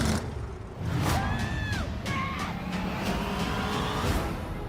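An old station wagon engine in a movie trailer revs and roars loudly, with a rising whine and brief squealing tones amid music and effects.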